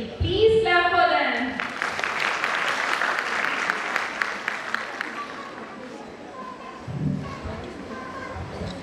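Audience applause at a school annual function fills the space after children are called up, a dense, sustained clapping that fades down, with a voice speaking before and after it.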